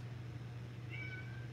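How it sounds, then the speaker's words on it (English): A house cat cries to be let in, giving one faint, drawn-out meow against a low steady hum. "my little kitty cat's crying"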